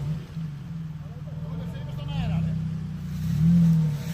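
A four-wheel-drive car stuck in a pothole with its front drive not engaging, the engine droning and wheels spinning in a steady low rumble that swells toward the end, with people talking over it.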